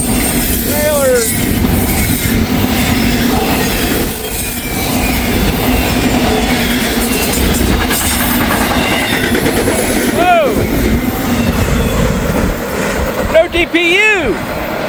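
A long freight train rolls past in Kentucky, loud and close, with steady rumbling, clattering wagons and several shrill wheel squeals toward the end; a person speaks briefly over the noise.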